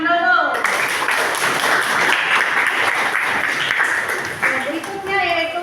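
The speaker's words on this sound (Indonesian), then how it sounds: "Yang bagus sekali, tepuk tangan dulu." Students applaud in a classroom after a group presentation, a burst of close, lively clapping from a small group, with voices speaking at the start and end.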